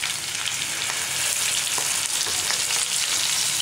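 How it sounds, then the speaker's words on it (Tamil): Drumstick chicken pieces fry in a pan over a low to medium flame, giving a steady, dense sizzle that runs unbroken throughout with faint crackles and no talking. "இப்போ நம்ம பேனில் போட்டதும் ஃப்ரை ஆகிட்டுருக்கு"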